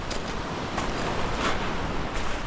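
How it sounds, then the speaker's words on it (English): Ocean waves at Manoc Island off Cebu, a steady wash of surf with wind rumble on the microphone, continuous and fairly loud. "This side is so much of waves."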